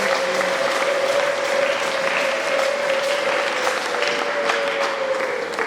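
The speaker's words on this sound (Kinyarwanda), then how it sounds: "tuyikomera amashyi Imana." A church congregation breaks into sustained, loud applause after a choir's song, the dense clapping running on steadily under a held sustained tone.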